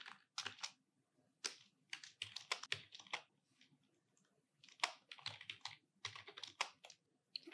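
Quick bursts of computer keyboard typing as a short code snippet is entered, crisp close clicks in uneven clusters with brief pauses between them, quiet and without talk.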